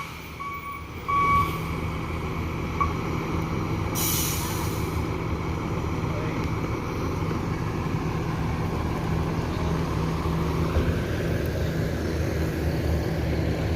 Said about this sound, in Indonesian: Ini bus ALS yang ketiga masuk Terminal Barai Solo